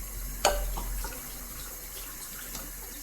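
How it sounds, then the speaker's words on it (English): Running water splashes and trickles steadily over alfalfa sprouts in a colander, with a brief clatter near the start, like rinsing something under a tap. "I'm going to rinse these with some clean water"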